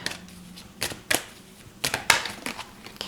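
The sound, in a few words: shuffling tarot cards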